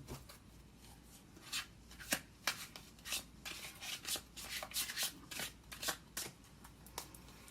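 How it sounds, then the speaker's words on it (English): Tarot cards are shuffled up close in a quick series of papery riffles and rubs, rhythmic bursts repeating for several seconds. "I'm going to shuffle."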